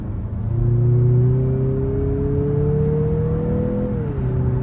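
A 2023 Mazda CX-50's 2.5-liter turbocharged four-cylinder accelerates in a steady, close rising drone, its engine pitch climbing smoothly before easing back, with no talk over it.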